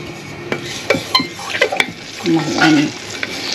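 Chicken pieces frying in a pan for Filipino adobo, stirred with a wooden spoon: a steady sizzle runs under sharp clinks and scrapes of the spoon against the pan, close and fairly loud.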